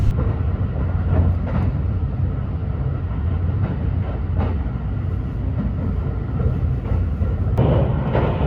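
Inside a Limited Express Shirasagi train running at up to 130 km/h between Kanazawa and Nagoya, a steady low rumble and rushing roar continue throughout, with faint rhythmic rail clatter under the constant cabin noise.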